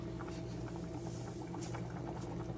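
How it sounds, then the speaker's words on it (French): Okra and plantain soup with tomato sauce, turmeric and thyme simmers over lowered heat, making a faint, continuous bubbling with small liquid pops throughout. "On laisse ça mijoter pour à peu près, je dirais, une dizaine de minutes."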